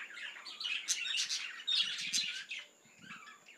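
Budgerigars in a rural colony breeding aviary chirp and twitter in bright overlapping bursts, close by and fairly busy, with short pauses between flurries.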